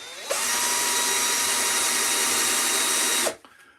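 Woodcarving work with a power drill boring into a block of wood: a single loud, steady whirring run of about three seconds that starts abruptly and cuts off sharply.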